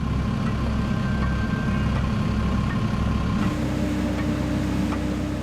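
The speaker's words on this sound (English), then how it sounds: "The crane positions the boom directly above the engine." A crane's diesel engine runs steadily while the boom is positioned over a Caterpillar C32 engine, a loud, constant low rumble with a faint tonal whine that eases slightly partway through.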